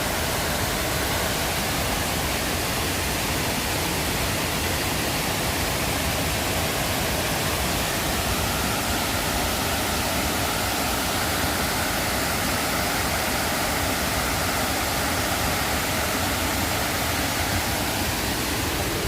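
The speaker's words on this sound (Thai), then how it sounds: "เป็นน้ำตกขนาดเล็กๆ ย่อมๆ" A small waterfall at Kroeng Krawia in Thailand pours steadily, a dense unbroken rush of water close by with no voices.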